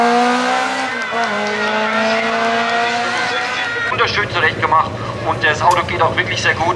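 A nearly 50-year-old Opel Corsa race car drives uphill at the Glasbach hill climb in Bad Liebenstein, its engine roaring loudly with a gear shift early on, then giving way to choppy, irregular noise as voices come in.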